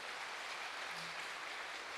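Audience applause at a choir concert, a steady broad wash of clapping that fills the hall without pause, moderately faint and with no voices over it.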